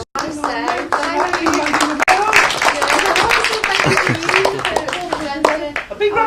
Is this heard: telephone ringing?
no